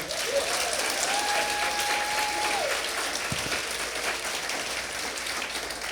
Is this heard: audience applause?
yes